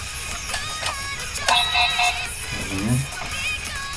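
Short electronic tones blip from a toy card reader amid background noise, a brief cluster of beeps sounding like an error signal.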